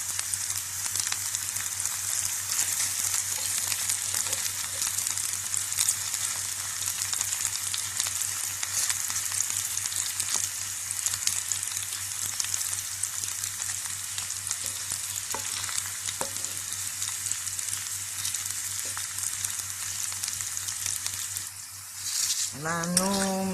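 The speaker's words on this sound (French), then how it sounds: "nous commençons d'abord par sauter nos gombos" Okra sizzles and fries steadily in a frying pan, a continuous close crackling hiss with occasional stirring scrapes; a brief voice-like sound comes near the end.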